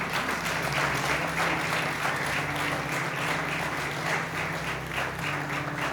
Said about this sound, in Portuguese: Você pode aplaudir o Senhor por essa palavra?